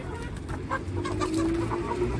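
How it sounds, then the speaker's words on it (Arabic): Hungry farm chickens clucking close by, several birds overlapping in busy, uneven bursts with a drawn-out squawk near the end, with no talking. "هتقولي لي الفراخ جعانه ليه يا ام جنى"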